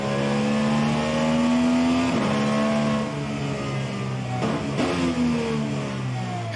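A Dallara IR18 IndyCar engine in the rFactor 2 racing game screams at high revs, with rising pitch sweeps broken by quick upshifts and short drops, loud and continuous with no talk.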